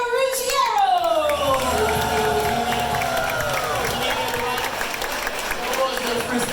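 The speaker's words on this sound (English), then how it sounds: "Please give a big round of applause for Captain Maurizio Ruggiero!" A crowd aboard the cruise ship MSC Meraviglia applauds and cheers for the captain, with whoops and shouted voices rising over a steady bed of clapping that lasts several seconds in a large, lively room.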